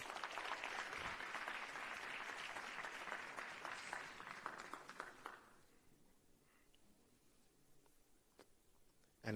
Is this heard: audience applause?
yes